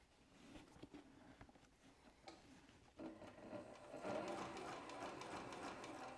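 A sewing machine stitches a leather tote bag, its needle chattering in a fast steady rhythm, soft at first and then running louder and continuously, close by.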